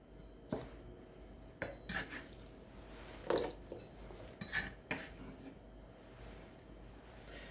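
A knife slicing squid into two-inch lengths on a board, a handful of soft, irregular chops and taps close by with quiet scraping between them.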